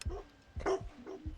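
Dog barking inside a horror video game, a few separate barks in a loose rhythm, moderately loud over faint background ambience, with no speech.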